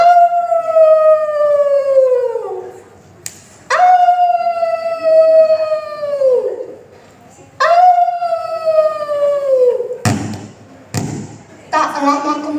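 A voice imitates a dog howling in a dark forest, with three long, loud wavering howls that each slide downward, separated by short pauses and followed by a few thumps.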